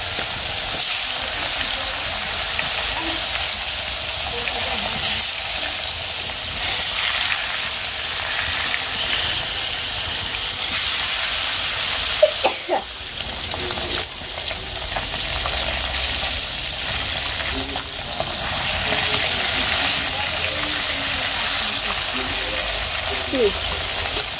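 Fish fries in hot oil with a loud, continuous sizzle and hiss that runs without a break, a few brief clatters from stirring or turning near the middle.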